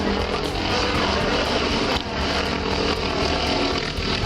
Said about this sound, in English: That chopper way overhead.